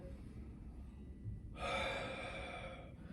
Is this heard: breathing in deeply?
yes